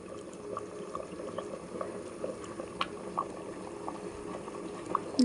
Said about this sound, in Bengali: দেখতে পাচ্ছ বন্ধুরা, ভাত ফুটে গেছে।